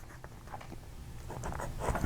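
A vintage flex fountain pen nib glides across paper in a smooth, faint, continuous scratch with light strokes, close by and with no voices.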